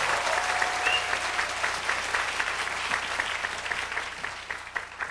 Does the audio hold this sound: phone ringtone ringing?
no